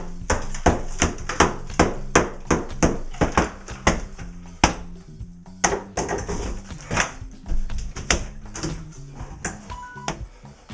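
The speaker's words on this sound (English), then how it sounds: "Yes, I did get to take a hammer to them." Repeated hammer blows crack and bang against hard material of an old shower being demolished, in an irregular rhythm, close and loud, with debris clattering between strikes.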